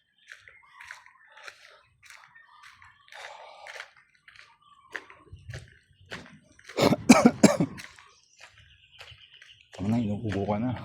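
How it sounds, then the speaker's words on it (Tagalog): A person coughs in a quick loud burst of several harsh coughs midway, with quieter scattered sounds before it and a voice speaking right after. "Ano na, inuubo ka na."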